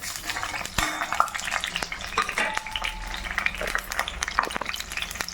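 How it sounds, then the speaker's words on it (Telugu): Dried red chillies, cumin and mustard seeds frying in a pan, with a steady low sizzle, scattered crackles and pops, and occasional clinks of a utensil stirring against the metal. "ఇలా వేగుతున్నప్పుడు మనం ఎండుమిర్చి అండి, జీలకర్ర, లైట్గా జీలకర్ర అండి, ఆవాలు"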